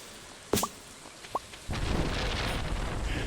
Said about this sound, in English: The timing on the thunder was perfect.